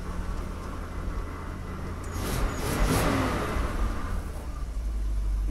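Tucker Sno-Cat engine running after starting, a steady low rumble that swells slightly louder partway through, close by and alone.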